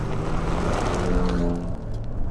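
Ford Ranger Raptor pickup engine rumbling through straight-through exhaust pipes, a loud continuous drone heard close with a slight rise and fall, no talking.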